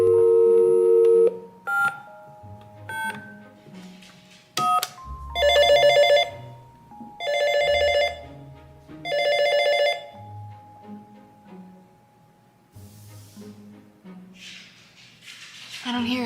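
A toy telephone plays dialing tones and beeps, then three loud electronic ring bursts in a regular pattern, followed by scattered tones with some faint talk.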